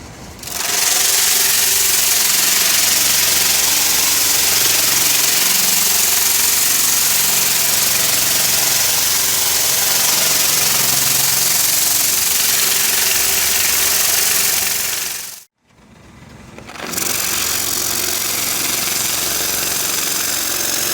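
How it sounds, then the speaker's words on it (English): A wood lathe spins a chucked section of wood while it is sanded: a loud, steady mechanical hum and rushing whir that runs continuously, cuts out abruptly for about a second, then resumes. "I've got this section of wood chucked up in the lathe"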